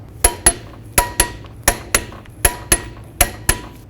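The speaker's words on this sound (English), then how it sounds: "Let's torque these lug nuts to 100 foot-pounds in a star pattern." A torque wrench clicks sharply in quick pairs as lug nuts are tightened on a Ford Mustang wheel, roughly a dozen crisp metallic snaps close up with no talking.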